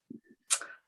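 A person sneezes once, nearby: a soft voiced intake followed by a sharp, bright burst that quickly fades.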